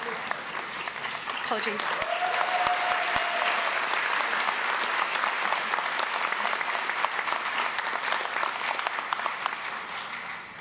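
An audience applauds steadily at a Lancaster University graduation ceremony. The dense clapping fills the hall the whole way through while a voice speaks over it briefly.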